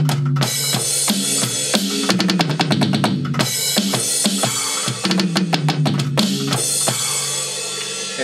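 Sampled DW acoustic drum kit hits triggered on a Roland SPD-SX pad, a dense, loud, continuous groove with punchy kick and snare, cymbal wash and rapid fill rolls, no voices.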